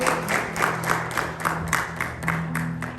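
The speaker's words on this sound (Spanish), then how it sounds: "denle un aplauso al Señor" A church congregation claps in a rhythmic, regular beat, moderately loud, with steady organ-like musical tones underneath.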